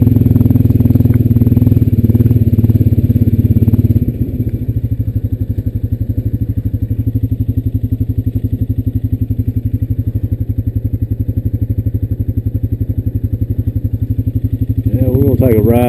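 A Honda Rancher 420AT ATV engine runs steadily while riding near Beaver Creek, a loud close low throbbing drone that shifts slightly in pitch, with someone talking over it at times.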